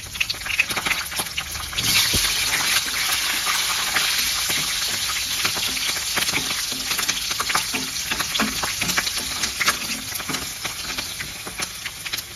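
Chana dal, urad dal, cumin and mustard seeds fry in hot oil for a methi potato curry, a loud, close, continuous sizzle with crackles and scraping stirs throughout, and no talking.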